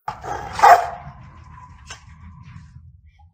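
A dog behind a fence lets out one sharp, loud bark, then a second fainter bark follows, with quiet low rumbling background between them.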